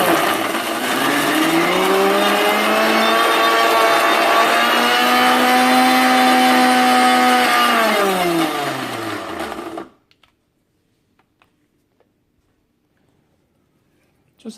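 A mixer grinder runs at high speed blending roasted peanuts into peanut butter, a loud steady motor whine that holds for about ten seconds and then winds down abruptly into near silence with a few small clicks.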